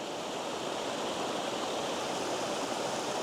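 Water rushes steadily down a stream near a waterfall in Shenandoah National Park, a constant, full, close hiss with no breaks and no voices.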